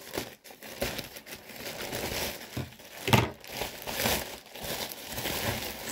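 Plastic wrapping on an online-ordered Christmas package crinkles and rustles steadily up close as it is torn open and unwrapped, with a louder crunch midway and no talking.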